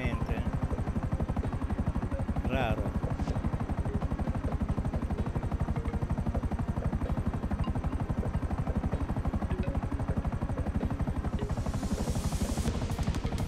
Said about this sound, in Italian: Questa è la seconda volta che è capitato gli elicotteri